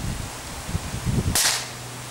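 Single sharp shot from a Webley Alecto air pistol fired at an outdoor target, a brief loud crack standing out against low rumbling background noise, with no talking.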